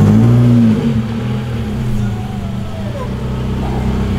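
A Mitsubishi Lancer engine revs hard and loud at first, then eases to a steady, lower rumble as the car moves off amid outdoor street noise.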